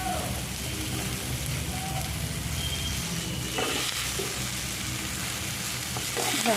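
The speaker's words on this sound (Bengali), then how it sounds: "কিছুক্ষণ ভাজার পর আমি দিয়ে দিচ্ছি এবার কুমড়োগুলো।" Pumpkin pieces fry with ground coriander and chilli powder in a pan, a steady, close sizzle and crackle with occasional scraping stirs throughout.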